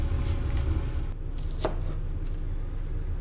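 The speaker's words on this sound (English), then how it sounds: "we're going to cut and halve the Brussels sprouts" A knife chops through Brussels sprouts on a board, a few crisp cuts standing out against a steady background hum; no one speaks.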